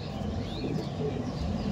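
Pigeons in a loft, a naptha-breed pair, male and female, give soft low coos near and a little muffled, over faint rustling and background murmur.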